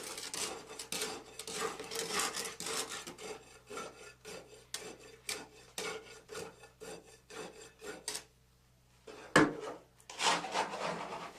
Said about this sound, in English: Rod the layer 25 times, making sure to penetrate into the first layer approximately 1 inch.